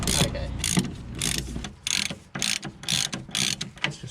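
Ratchet spinning a bolt on BC coilovers for a BMW E30 Touring, loud close-up bursts of rapid pawl clicking in repeated strokes separated by short pauses.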